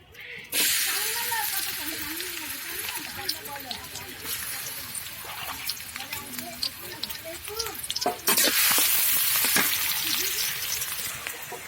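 Onions frying in plenty of oil in a pan for a chili dish, a steady broadband sizzle with a sharp burst of louder hissing near the end, while a voice talks over it throughout.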